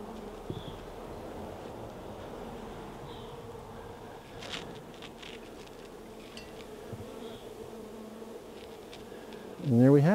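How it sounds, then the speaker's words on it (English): Bees buzz continuously around jars of sugar water set out as feeders, a close, fairly soft drone with individual insects passing near, and a louder rustle at the very end. "the bees can get up into here to feed off of these"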